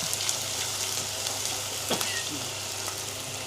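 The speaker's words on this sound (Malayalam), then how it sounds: "ഇനി നമുക്ക് ഉള്ളി ഇടാം. അതൊക്കെ വാട്ടിയെടുക്കാം." Onions and dried red chillies sizzle steadily in hot oil in a pan, a loud, close, continuous frying hiss with faint stirring scrapes.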